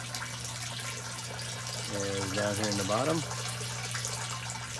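Water runs steadily through a home aquaponics system's overflow and pump intake, a continuous close trickling wash with someone talking over it partway through.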